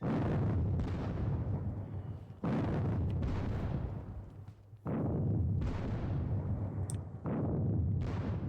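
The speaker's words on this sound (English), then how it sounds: "Just more gunfire over here." Heavy gunfire and booming volleys roll through a Napoleonic wargame battle, with repeated long bursts of dense rumbling fire that rise sharply, then trail off, several times in succession.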